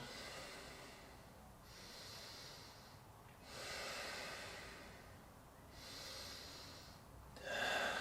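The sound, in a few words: deep breathing during a breathwork exercise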